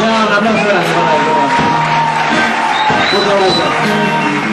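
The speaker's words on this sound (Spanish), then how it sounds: "un aplauso grande para él" A concert audience applauds and cheers a band member being introduced, with loud continuous clapping, whoops and shouts, and a voice over a microphone on top.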